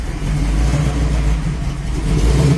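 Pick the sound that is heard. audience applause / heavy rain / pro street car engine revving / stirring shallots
pro street car engine revving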